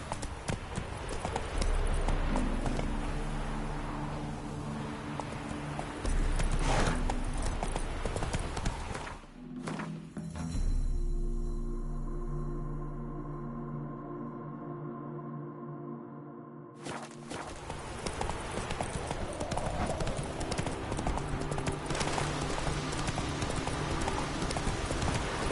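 Horse hooves clip-clop steadily in a PS4 video game, a continuous near rhythm of hoofbeats that thins out briefly midway and then resumes at full pace.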